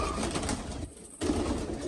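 Mixed breeds of pigeons coo softly at a breeder's loft in Faisalabad, low murmuring calls with a brief gap midway, faint and close against quiet background.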